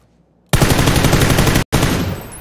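Pistol fire in a shooter video game, a rapid burst of loud, close gunshots running together, briefly broken by a split-second gap before a second burst, with no talk over it.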